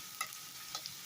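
Potatoes and onions frying in a pan over raised heat, a soft steady sizzle with a couple of faint light clicks, no talk.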